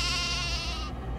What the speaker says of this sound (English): Forgot there were sheep over here.